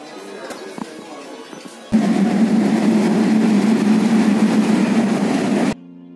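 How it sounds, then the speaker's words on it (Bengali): At a railway station, a train engine is shunted to the front of the train. After a quieter stretch with scattered clicks, a loud, steady, droning engine rumble starts abruptly, holds for several seconds, then cuts off. "এখন ট্রেনের ইঞ্জিনটাকে সামনের দিকে নেওয়া হবে"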